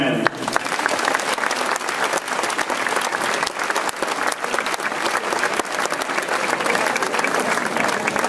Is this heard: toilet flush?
no